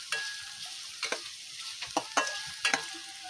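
Onion frying in a large pot, soft sizzling under a series of sharp spatula scrapes and knocks against the metal, several distinct strokes spaced across a few seconds.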